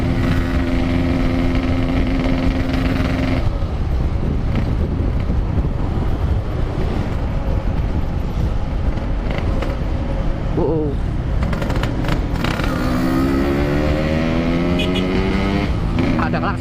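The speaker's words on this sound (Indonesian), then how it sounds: "Kalau ada bayi jangan terlalu ngegas ya, kasihan berisik knalpotnya." Two motorcycles, a Yamaha Aerox scooter and a Yamaha R15, ride at speed with engines and exhausts revving continuously, loud and close, with heavy wind buffeting over the whole stretch.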